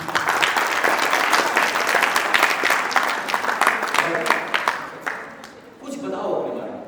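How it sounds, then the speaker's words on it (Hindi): An audience at an acting masterclass claps steadily in a dense burst of applause that thins out and fades after several seconds, followed by a brief scatter of sound. "बहुत बढ़िया, तालियां।"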